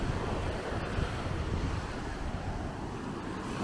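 Broad, steady wash of sea surf breaking at a beach, continuous and fairly close with wind rumble on the microphone, no voices.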